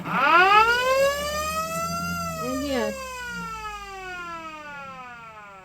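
A loud siren on a Century Coronado wooden boat inside a shed winds down in a long falling wail, fading steadily, while a voice speaks briefly partway through.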